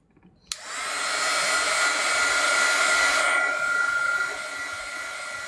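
A hair dryer blowing on wet watercolor paint clicks on and runs as a loud, steady close whoosh, easing down slightly near the end.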